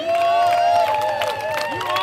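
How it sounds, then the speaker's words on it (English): A crowd at a Clean Water California rally cheers and applauds, with shrill whistles and rising and falling shouts over a steady wash of clapping, loud and close throughout. "Give yourselves a great round of applause once again"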